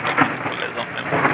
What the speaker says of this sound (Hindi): बारिश इतनी ज़्यादा है कि मुझे डर लगता है